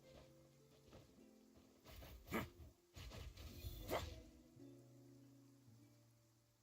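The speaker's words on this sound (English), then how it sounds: "Ah, it's raining?" Rain falls in the video game Genshin Impact, a soft patter on surfaces under quiet tonal game music, with a few brief louder swishes and splashes in the middle.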